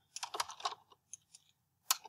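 Keys tapped on a computer keyboard while entering a web link, a quick cluster of close, crisp clicks followed by a pause, a few lighter taps and one final sharp keystroke.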